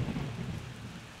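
Rain pours steadily while a deep thunder rumble rolls underneath on a dark, stormy level of the Plants vs. Zombies video game, loud and continuous through the short stretch.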